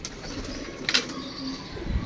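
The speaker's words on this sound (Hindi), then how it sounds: "ये अब हमारा दाना कबूतर मांग रहे हैं" Pigeons coo softly while waiting for grain, a low, faint throaty murmur under a quiet outdoor background, with a brief flutter or chirp near the middle.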